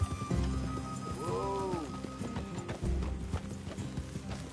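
Horse hooves clip-clopping in the Western video game Red Dead Redemption 2: steady, close hoof beats of horses walking, with a brief snort or whinny partway through and low background game sound.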